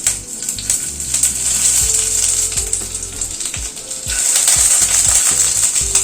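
Chopped onion hitting hot oil in a pan sizzles loudly and steadily, with occasional clinks and scrapes of stirring close by and no voices.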